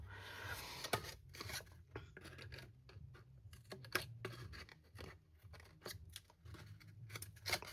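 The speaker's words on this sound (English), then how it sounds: "these are not the best scissors either. They're not very sharp." Dull, not very sharp scissors cut through glued card or paper while crafting a Cadbury egg treat box, giving a steady run of close, crunchy snips and rasping scrapes with irregular rhythm and no talk.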